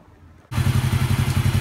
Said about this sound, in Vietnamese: mình sẽ nổ máy cho các bạn nghe